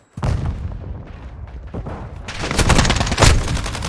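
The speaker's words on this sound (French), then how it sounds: "Je lance du Semtex." Video game battle with a Semtex grenade: a sudden loud blast opens, followed by rumbling, then dense rapid gunfire and booms growing heavier toward the end.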